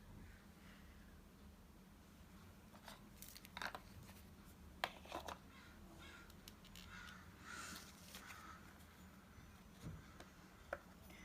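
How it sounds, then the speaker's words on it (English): Crows caw several times at a distance, in scattered bursts over a quiet outdoor background, with a few faint ticking sounds. "Now I hear the crows."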